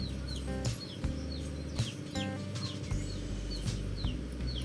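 Native hens and Rhode Island Red chicks about two months old cluck and chirp softly in a steady stream, fairly distant, with a low hum underneath and no talking.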